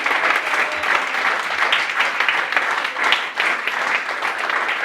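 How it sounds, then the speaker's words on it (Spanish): A church congregation applauds loudly after a sermon, a thick, continuous roar of many clapping hands that stays even and strong throughout. "Dale fuerte el aplauso al Señor."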